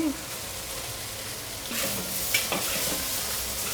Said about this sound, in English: I'm lifting and I'm shaking to break up the noodles.